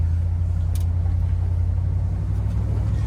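A 1972 Buick Centurion drives along with a loud, steady low engine rumble and road noise from inside the car, with no talking.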